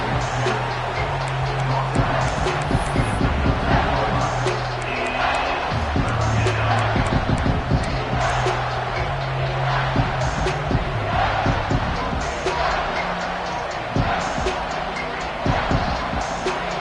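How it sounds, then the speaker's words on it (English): A college football stadium crowd roars to rally the home defense near the red zone, a loud, sustained wall of cheering and whooping with sharp bursts and thumps throughout. "This crowd is trying to inspire this defense to make a big red zone stop"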